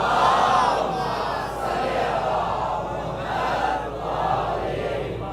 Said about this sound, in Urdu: بلند صلوات دیا کریں